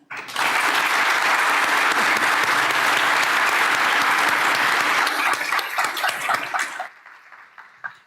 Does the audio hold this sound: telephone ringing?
no